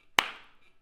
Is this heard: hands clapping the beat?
yes